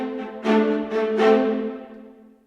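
A lush symphony orchestra passage recorded with tree microphones, sustained strings swelling in a few phrases, then fading away, heard dry and natural without added reverb.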